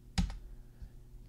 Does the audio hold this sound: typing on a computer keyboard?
yes